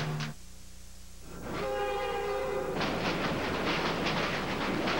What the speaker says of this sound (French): Voyage à bord des trains de Via Rail.